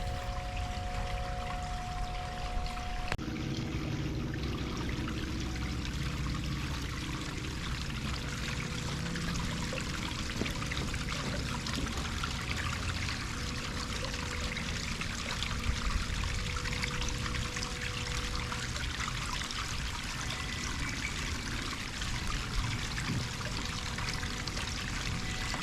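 Steady trickling and splashing water from a solar-powered waterfall feature on a backyard pond, a continuous close pouring stream without breaks.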